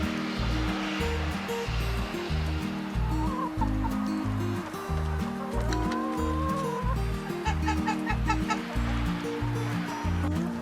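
Chickens cluck and call continuously over a steady, dense background wash, the short clucks and chirps scattered throughout and fairly close.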